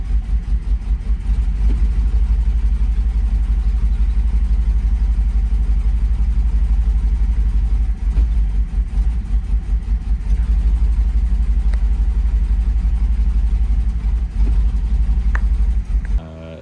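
A car engine with D-Jetronic fuel injection idles roughly and runs very rich, its steady low rumble surging and bogging repeatedly, close and loud with no other sounds throughout.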